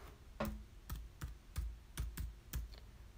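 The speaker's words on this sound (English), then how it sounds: "let's go type in pumpkin" Typing on a computer keyboard: about eight distinct, fairly quiet key clacks at an unhurried, slightly irregular pace, close by, with no talking.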